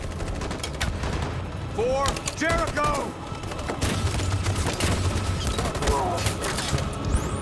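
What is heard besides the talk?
gunfire, cover fire in video game Detroit: Become Human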